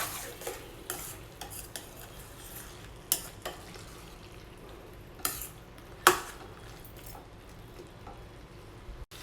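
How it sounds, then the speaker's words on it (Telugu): Ridge gourd masala curry is stirred in a pan, giving a low steady sizzle broken by scattered scraping and clinking taps of a spoon against the pan. "నెక్స్ట్ 2 మినిట్స్ తర్వాత మరొకసారి అంతా కూడా బీరకాయ అంతా మిక్స్ చేసుకోవాలండి"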